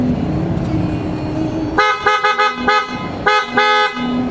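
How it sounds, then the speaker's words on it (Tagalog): PIAA Auto Style horn fitted to a Suzuki Swift sounds in a series of loud, close, bright toots: a few quick short blasts, then a longer burst, after a stretch of engine-idle rumble. "So sound check natin yung tunog ng Pia."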